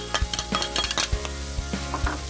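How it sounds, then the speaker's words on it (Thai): Chili and garlic stir-fried in a pan with ground meat: a busy sizzle broken by quick scraping and clinking strokes of a spatula against the pan, close and fairly quiet. "เราก็ใส่พริกกับกระเทียมลงไปผัดเลยนะครับ"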